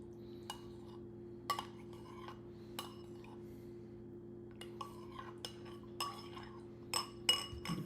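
Honey, olive oil and almond milk are stirred together in a bowl for bread dough, a utensil clinking against the dish in scattered soft taps over a steady low hum, with a cluster of louder clinks near the end.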